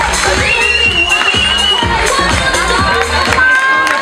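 Crowd at a Miss Fashion semi-final announcing finalists, loud dense cheering and shouting with music playing along, sustained throughout.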